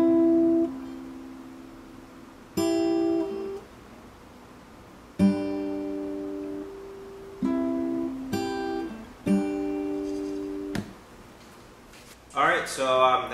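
An acoustic guitar picks the intro of a song in separate plucked phrases, each note ringing and decaying, fairly quiet and close, with a brief voice or noise near the end.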